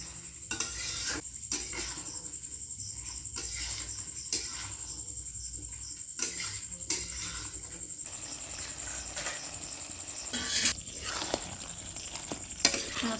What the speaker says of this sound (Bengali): এইভাবে নেড়ে চেড়ে কিছুক্ষণ ভেজে নেব।